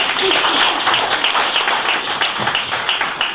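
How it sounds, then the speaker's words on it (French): A conference audience gives a steady round of applause for a speaker, continuous dense clapping at moderate loudness with a few faint voices beneath. "la parole est à vous. Merci, ma sous vos applaudissements, s'il vous plaît."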